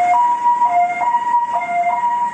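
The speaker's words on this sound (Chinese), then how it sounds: "救护车急忙地将刚跳伞逃生的战机驾驶送入急诊室进行检查" An ambulance siren wails nearby in a repeating two-tone pattern, loud and steady, as it rushes an ejected Mirage 2000 fighter pilot to an emergency room in Taitung, Taiwan.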